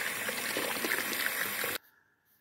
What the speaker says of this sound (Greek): ρίχνουμε νερό στη σικιά.